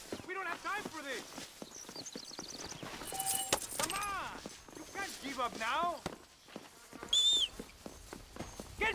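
Horse hooves clip-clop in the Red Dead Redemption video game, quiet and intermittent beneath voiced dialogue, along with jangling tack and other game effects.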